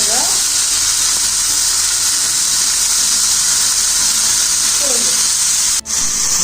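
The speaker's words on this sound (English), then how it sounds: "So you just mixing up your minced meat" Minced meat sizzles and fries in a dry pan with no oil, a steady loud hiss throughout with light stirring scrapes and a brief break near the end.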